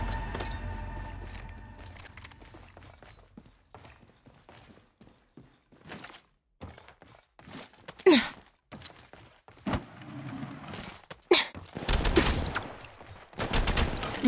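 Gunfire in the mobile battle royale game Apex Legends Mobile: scattered bursts and single sharp shots, some loud and close, others fainter, broken by short gaps, with no talk over them.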